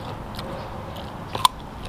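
Crunchy bites into spicy Thai Mama instant noodle salad with fresh shrimp, a few close, brief crunches with one sharp crackling bite standing out near the end, over quiet room background.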